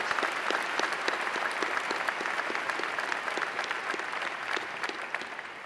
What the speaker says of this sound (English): Please join me in a round of applause for these guests